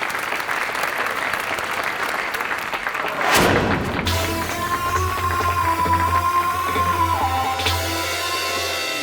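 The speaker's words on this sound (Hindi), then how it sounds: "जोरदार तालियां बजाइए" An audience applauds loudly at a lavish ceremony, a dense burst of clapping that swells and keeps going. Stage music and a held tone continue under the clapping.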